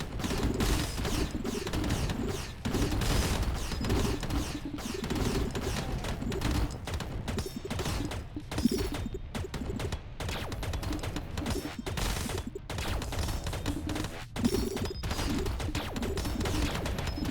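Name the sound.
missiles firing in a space rock shooter video game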